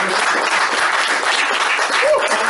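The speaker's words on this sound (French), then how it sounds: "Je suggère une main d'applaudissement pour les" Audience applause fills a cultural talk-show studio, a dense steady wash of hands clapping for the invited guests, loud and continuous for a few seconds with some voices mixed in.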